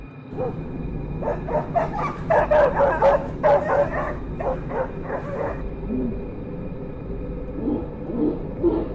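A dog barks, yips and whimpers in a rapid excited burst at night on a trail camera, answered by quieter yelps after a pause, over a steady low hum.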